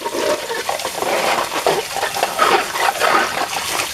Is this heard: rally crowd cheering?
no